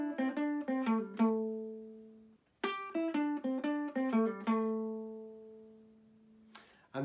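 Ukulele playing a short ending riff with a hammer-on, two clean plucked phrases of quick ringing notes separated by a pause, close and alone with no talking.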